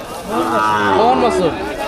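Cattle at a village cow market lowing loudly in one sustained, wavering moo about a second and a half long, close by, with faint crowd murmur underneath.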